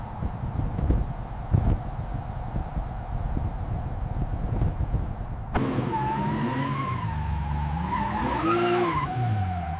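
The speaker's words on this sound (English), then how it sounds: "This simulates real highway driving." A car runs on a factory test rig that simulates highway driving, with a steady loud roar of tires and rolling noise, then a sharp shift into a higher-pitched whining tone with wavering pitch.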